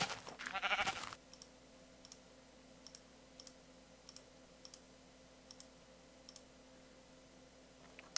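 Sheep in the video game Minecraft bleat, and a brief burst of louder noise comes first. After it, short soft clicks repeat at a regular pace against a quiet, steady background hum.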